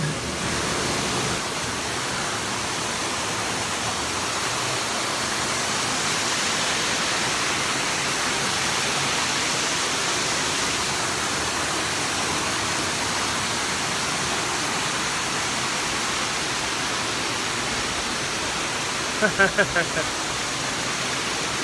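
Steady broadband rush of a flowing creek at Allen Creek during a hammock camping trip, loud and close throughout, with a brief knock near the end.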